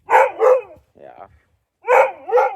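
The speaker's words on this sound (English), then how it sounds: "stop your barking, or you're gonna go in the house." A dog on a homestead barks in loud, close pairs, two sharp barks, a short pause with a softer whimper-like sound, then two more barks, with someone talking nearby.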